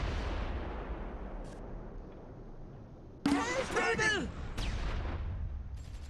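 Gunfire from the World War II video game Close Combat IV comes as a sharp, loud burst followed by a decaying rumble and a second report, after a fading earlier blast.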